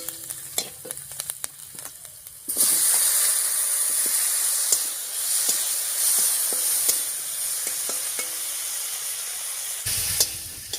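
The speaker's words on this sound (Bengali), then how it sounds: "টমেটোটা দিয়ে রসুন আর লঙ্কার সঙ্গে একটু রান্না করে নিয়েছি।" Chopped tomato frying with ginger, garlic and chili in a hot pan for an egg dish, a loud steady sizzle that bursts in after a few quiet clinks and runs on with occasional stirring scrapes before cutting off near the end.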